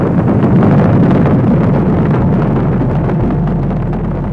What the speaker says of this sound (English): We have ignition sequence start.